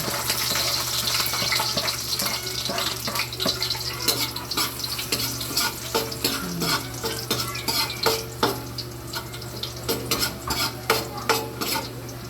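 Garlic and onion sautéing in a pan, with a steady sizzle under repeated scraping stirs of a utensil against the metal. The stirring clatters grow more pronounced toward the end, close up, with no voices.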